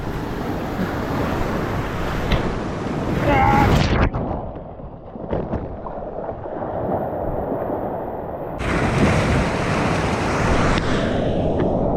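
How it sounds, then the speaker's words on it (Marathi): Large sea waves crash over a coastal road, a loud roaring surge followed by a quieter lull and another rushing wash, with someone talking over the noise and heavy wind buffeting the microphone. "एकदम खतरनाक लाट आली पूर्ण रस्त्यावर"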